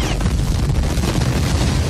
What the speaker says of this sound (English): in a scene featuring an explosion, you can hear James Brown's scream.